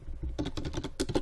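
Quick keystrokes on a computer keyboard, a short burst of about half a dozen soft clicky taps close up, fairly quiet.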